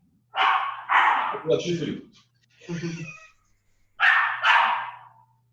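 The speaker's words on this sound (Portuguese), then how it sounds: "Mata esse cachorro aí." A dog barks in several loud, close clusters, two quick barks at a time with a short pause between groups, alone without talk over it.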